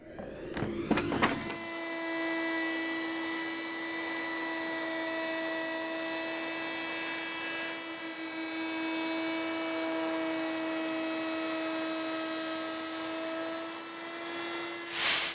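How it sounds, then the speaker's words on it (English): A router on a router table, set up to trim a wooden overhang for a glue joint, spins up with a short clatter and then holds a steady high whine with strong tonal overtones for the rest of the time. "We're going to router that off on the router table."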